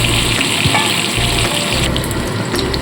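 Potato pieces fry in hot oil for a winter-vegetable khoira fish dish, a loud, close and continuous sizzle with faint stirring scrapes and no talk.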